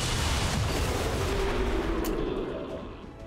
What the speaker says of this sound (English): Would you enjoy this explosion?